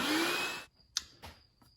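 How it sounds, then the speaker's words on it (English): A vacuum cleaner sucks dust and dirt out of the air filter housing of a 2022 Honda Civic. It roars loudly for about half a second, cuts off, then gives a few short sharp bursts. "then it all gets picked up by the vacuum"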